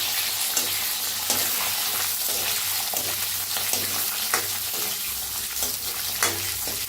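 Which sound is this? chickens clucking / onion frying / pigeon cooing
onion frying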